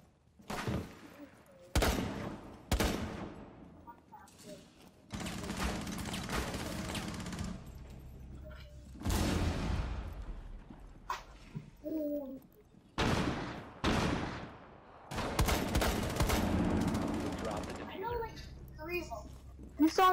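Game gunfire in Rainbow Six Siege, a bomb-defuse round with a shotgun in play: sharp bursts and single heavy shots scattered across the span, loud and close, with players talking between and over them.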